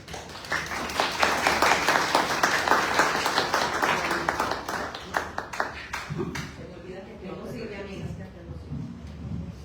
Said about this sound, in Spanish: Salvador Pérez Merecio, que le mando un aplauso.